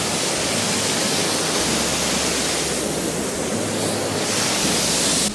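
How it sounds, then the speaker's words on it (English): A powerful woodland waterfall in the Lake District, swollen after a day of rain, gives a loud, steady, broadband roar that stays constant throughout, heard up close with no voices. "That's all yesterday's rain coming down. It's a really impressive waterfall"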